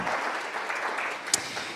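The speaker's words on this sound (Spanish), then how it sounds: "Fuertes aplausos a Él." A church congregation claps together in a steady, dense burst of applause that stays close and loud from start to finish.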